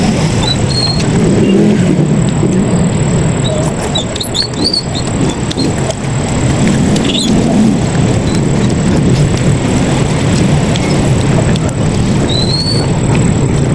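A car drives through traffic, a loud, steady engine and road rumble close by, with passing vehicle swells and faint bird chirps above the drone.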